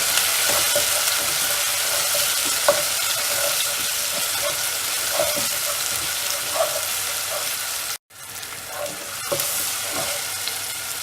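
Onions and tomato fry steadily in a pan for a radish egg fry, a continuous loud sizzle with occasional stirring clicks and a brief dropout near the end.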